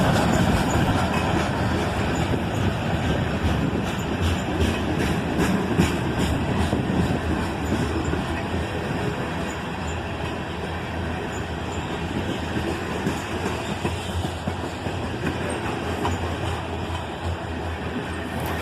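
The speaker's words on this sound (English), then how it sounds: "A GP38 2 leading, followed by a GP42 and a GP40." A freight train led by a GP38-2, followed by a GP42 and a GP40, rumbles steadily past on the Toledo sub, loud and close, with rhythmic wheel clatter throughout.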